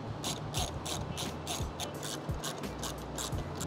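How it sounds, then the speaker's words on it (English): Ratchet wrench unscrewing mounting bolts on a BMW S1000RR motorcycle, a steady run of fast mechanical clicks in repeated bursts, close and fairly loud, no talking. "The 2 bolts that come on, you're just gonna unscrew"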